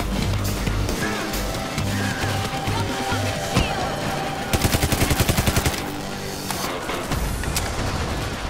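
A light machine gun fires in the video game PayDay 3, with loud game gunfire that grows into a rapid, evenly spaced burst in the middle over constant background noise and scattered impacts.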